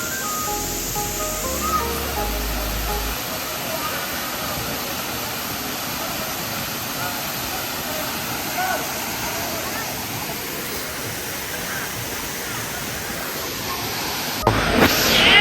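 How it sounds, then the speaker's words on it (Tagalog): A big waterfall on Siargao Island roars as a steady, broad rush of falling water, loud and unbroken throughout, with a brief sharp bump near the end. "She enjoyed the falls"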